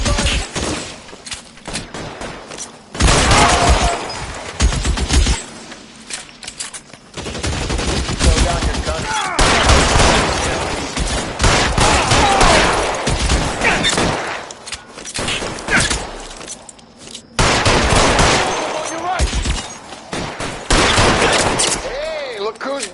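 Bursts of rapid gunfire and machine-gun fusillades from the video game L.A. Noire crackle in loud clusters separated by short pauses, with shouting voices heard between and over the shots.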